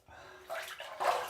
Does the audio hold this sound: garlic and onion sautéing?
no